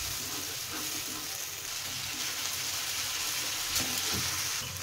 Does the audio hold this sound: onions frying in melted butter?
yes